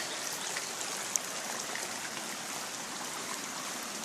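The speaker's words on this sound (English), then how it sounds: "The water flows down the fence line." Water flows down along a fence line outdoors, a constant broadband rushing and trickling hiss, steady and fairly close, with no voices over it.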